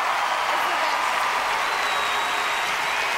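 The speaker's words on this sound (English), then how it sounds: "it's just amazing to hear the cheer and the energy of Panama here tonight" A large audience at the Miss Universe 2003 pageant in Panama cheers and applauds in a steady, dense roar that fills the hall without letup.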